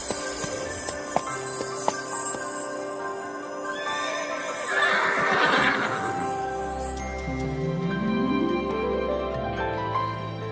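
Horses in an animated fantasy world neigh and whinny, with a loud rising whinny in the middle and another later, while hooves clip-clop beneath a layer of musical score.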